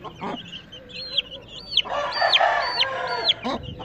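Backyard chickens, a rooster and a hen with week-old chicks: a few soft clucks, then a burst of louder clucking with a run of repeated rising high peeps, close by.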